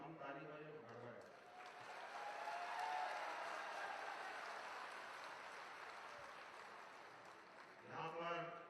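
Audience at a public event in Ghaziabad clapping to welcome the chief minister, a sustained wash of applause swelling in the middle and tapering, with a voice speaking briefly at the start and end.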